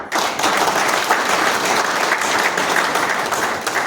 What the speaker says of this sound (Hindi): क्यों नहीं आपको दिल से निकला ताली बजाओ।